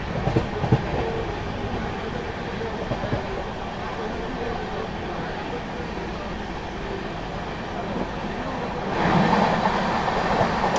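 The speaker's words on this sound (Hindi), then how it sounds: "ये आ गई फाइनली आपका नई Delhi Agra cantt intercity express." The New Delhi–Agra Cantt Intercity Express, led by a WAP-5 electric locomotive, rolls into platform 1 with a continuous loud rumble and clatter of wheels that swells near the end.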